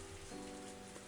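Heavy rain falls steadily in the Higurashi visual novel game, a faint, even wash of patter with a low tonal hum underneath.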